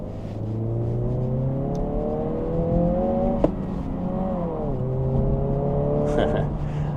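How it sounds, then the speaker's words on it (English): A 2025 Honda Civic Si with a manual gearbox drives along, its engine and exhaust droning steadily and climbing in pitch between gear changes, with a voice talking over it throughout. "I don't think the exhaust sounds that bad."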